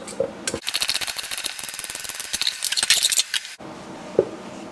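A carrot peeled with a hand peeler in a kitchen, a rapid run of close, crisp scraping strokes in a steady rhythm for about three seconds, followed by quieter handling and a single knock.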